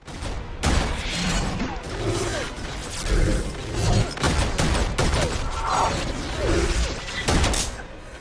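Gunfire from a terrorist in a film action scene: a rapid run of loud, sharp shots and impacts crowding the whole stretch, dense and close, with thuds and mechanical clatter mixed in.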